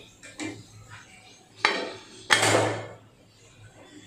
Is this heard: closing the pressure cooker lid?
yes